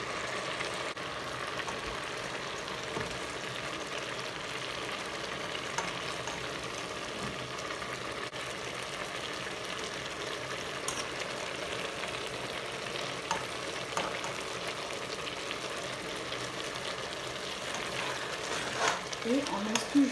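Saka saka cassava leaves with peanut paste simmer in a pot over lowered heat, a soft continuous bubbling and sizzle with faint clinks, and a person talking over it now and then.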